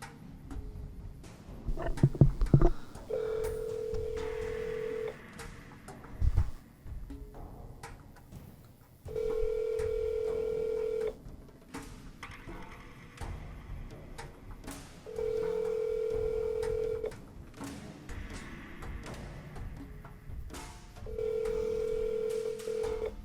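Ringback tone from a phone call in the video game Fallout New Vegas: four evenly spaced, steady tones, each lasting about two seconds, follow some clicks and bumps at the start, with soft background noise between the rings.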